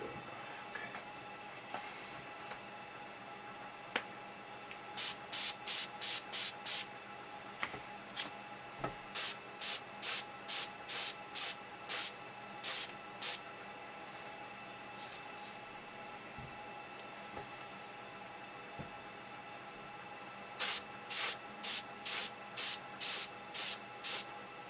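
An airbrush sprays paint onto instrument cluster needles in short, sharp hissing bursts, some alone and some in quick runs of several, over a quiet room hum.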